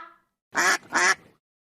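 A duck quacks twice in quick succession, loud and close, with silence around the calls.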